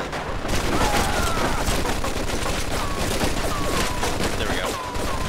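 Sustained machine gun fire with rapid overlapping shots in the video game Mafia 2, loud and relentless amid other gunfire, with a shouted voice briefly rising over the din.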